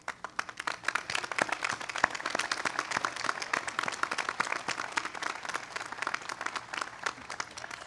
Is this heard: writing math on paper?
no